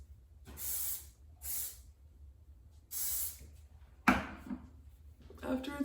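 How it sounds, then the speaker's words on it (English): Hairspray is misted over freshly brushed heatless curls in three short, close, hissing bursts with pauses between them, followed by a soft thump and faint handling noise. "Then I just hairspray it."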